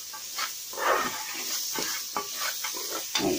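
A spoon stirs squash stew simmering in coconut milk with black pepper in a pan, soft scraping strokes over a steady sizzling hiss, close and moderately quiet with no talking.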